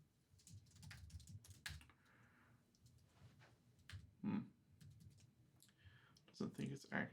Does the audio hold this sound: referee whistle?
no